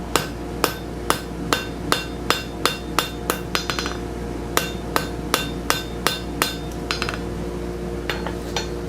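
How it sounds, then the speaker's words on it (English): A hammer strikes repeatedly to drive out a pin on a forged gothic door knocker, loud ringing metallic blows in a steady rhythm, pausing briefly before another run of hits. "We'll go ahead and drive out the pin again."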